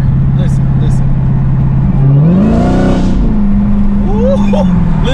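A car's loud exhaust rumbles close by and revs up once in the middle before settling back, while someone talks over it.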